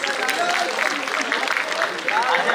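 Big round of applause from an audience at a live-streamed event, a loud, continuous wash of clapping with voices and crowd murmur blended into it.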